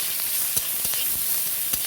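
Chopped onion and chili sizzling in hot oil, a loud, close, continuous hiss broken by a few quick stirring clicks, no voices.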